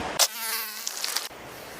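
Insects whine close by, mosquitoes buzzing near the Triberg waterfall in Germany, a thin wavering hum over a brief rushing background, with a short bump of handling noise at the start.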